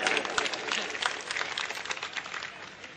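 An audience claps at a mushaira poetry gathering, sustained and dense applause at moderate loudness with no voices standing out.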